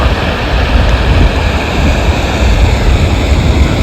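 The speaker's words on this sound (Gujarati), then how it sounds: "ચેકડમ ઉપરથી પણ પાણી અત્યારે વહી રહ્યું છે" Floodwater pours over a check dam in heavy rain, a loud, steady, broadband roar of rushing water that fills the scene without pause.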